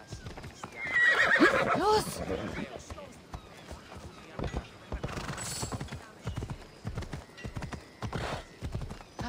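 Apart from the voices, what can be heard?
horse neighing and hooves in video game Assassin's Creed Odyssey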